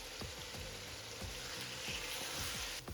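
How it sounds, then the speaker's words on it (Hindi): Ginger garlic paste frying in a pan for chicken biryani gives a faint, steady sizzle with repeated soft scraping strokes of stirring. "अब इसके अंदर अब ऐड कर देंगे लहसुन अदरक का पेस्ट। इसको हम 2 मिनट तक अच्छी तरह भूनेंगे।"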